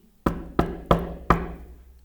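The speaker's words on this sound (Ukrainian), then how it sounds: "Ой, а хто це до нас стукає?" Knocking on a door, four sharp, evenly spaced knocks with short decays, loud and close, no voices.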